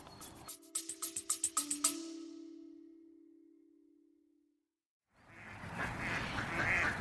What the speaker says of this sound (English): The ducks at High Ash Farm going in to roost for an evening.